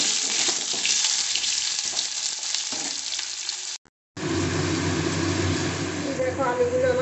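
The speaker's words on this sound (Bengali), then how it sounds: "কড়াতে আলু ভাজার জন্য তেল দিয়ে দিলাম। দেখো আলুগুলো লাল লাল করে ভেজে নেব।" Potatoes frying in oil in a wok for a Bengali dhokar dalna dish give a steady, close, loud sizzle that cuts off briefly midway and then resumes fuller, with a voice talking over it.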